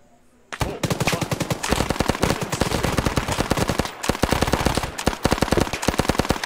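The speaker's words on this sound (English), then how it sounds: "they're, they're shooting, start engaging" Sustained automatic gunfire in the ARMA 3 war game, rapid bursts of rifle and machine-gun shots rattling almost continuously for several seconds, loud and dense with a brief gap near the end, no voices over it.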